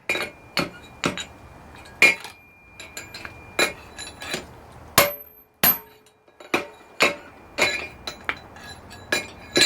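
Sharp metallic hammer strikes from forging a metal bottle opener ring out in an uneven rhythm, about twenty blows with short pauses between bursts, close and bright.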